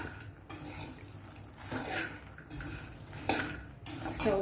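Roasted makhana (lotus seeds) being served from a pan with a spoon, metal scrapes and clinks repeating in short bursts at close range, with no talk.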